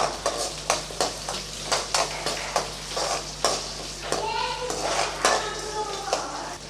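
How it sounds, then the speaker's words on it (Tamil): Onions and garlic cloves being sautéed in a pan for a brinjal kara kuzhambu, with a spoon scraping and stirring in steady repeated strokes over a soft sizzle, close by, with brief talking in the background. "சேர்த்து நல்லா வதக்கி விட்டுடலாம்."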